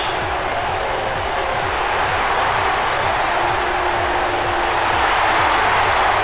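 Sustained crowd roar and cheering in a WWE 2K wrestling video game arena, loud and unbroken throughout, with faint rhythmic thumping underneath.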